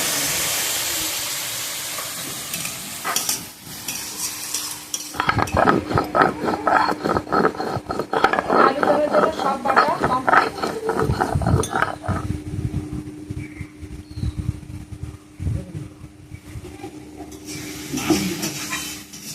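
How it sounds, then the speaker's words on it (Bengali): Carrots fry with salt in a hot pan, a loud, close sizzle and crackling hiss with rattling, clicking bursts that rise and fall for a long stretch. "গাজরটা ভালোভাবে ভেজে নেব গাজর দিয়ে দেবো একটু লবণ"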